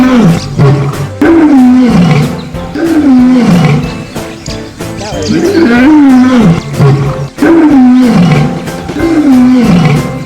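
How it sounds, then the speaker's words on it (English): A lion roars repeatedly in a rhythmic series of deep, heavy calls, loud and close, each followed by short grunting breaths. "It's a red lion."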